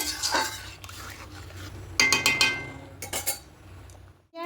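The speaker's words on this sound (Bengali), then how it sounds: "এবার এখানে পরিমাণ মতো লবণটা অ্যাড করে দেব খুব ভালো করে মিশিয়ে নেব" Salt is stirred into rose-scented pulao in a cooking pot with a metal spoon, giving close, bright clinks and scrapes that come in a few short bursts, with no talking.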